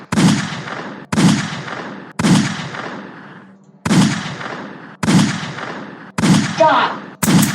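Seven rapid, punchy gunshots in a Piggy video game, fired in a steady rhythm about one per second, loud and close, each with a brief echoing tail.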